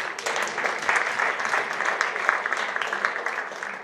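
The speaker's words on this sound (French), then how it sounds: "Voilà, on peut l'applaudir, Elodie." Steady audience applause at a French school sports trophy ceremony, a dense, fairly loud wash of clapping that holds evenly from start to finish.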